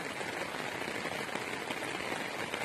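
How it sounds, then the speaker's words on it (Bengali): Rain falls steadily in a soft, even hiss of drops pattering on surfaces, fairly faint and unbroken throughout, with no voices. "বৃষ্টি,"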